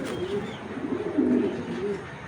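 A male Sapchila pigeon of an old Giribaz high-flyer breed, red-eyed, gives soft low cooing, close and steady with no talk over it.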